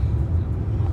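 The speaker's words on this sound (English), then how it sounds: "Yes, that is a train." A passing train gives a low, steady rumble for about a second, heavy in the bass and fairly loud, with no voices.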